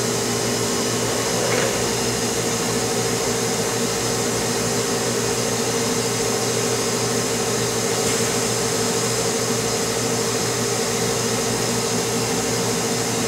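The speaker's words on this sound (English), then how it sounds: "Turbo backing valve closes and the rough valve opens." Vacuum pump-down of an Oxford Plasmalab 80 Plus reactive ion etch system with the rough valve open, a constant loud mechanical hum and whine holding steady throughout with no pauses.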